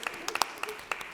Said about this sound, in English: that's right, clap for that.